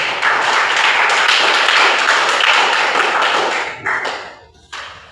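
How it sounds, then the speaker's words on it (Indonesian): Applause from a class audience of religion-teacher trainees, a dense, steady burst of clapping that fills the room for about four seconds, then thins out and breaks off with a few last claps. "Oke, tepuk tangan dulu."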